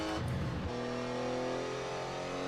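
Porsche 956 Group C race car at Sebring, the engine note dropping sharply as the driver lifts off and brakes, then holding a steady loud drone for the rest of the moment.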